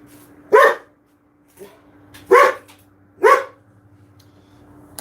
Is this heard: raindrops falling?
no